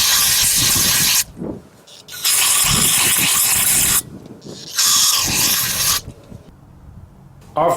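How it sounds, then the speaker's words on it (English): Aerosol brake cleaner blasts onto brake parts during a pad change on a 2011 Chrysler 200, three long loud hissing sprays separated by short pauses. "give them one last blast with the brake cleaner."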